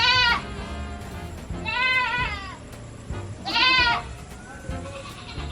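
Goats on a farm on ultrasound day give three loud, close, drawn-out bleats spaced a couple of seconds apart, each wavering, over a background of rustling and farmyard noise.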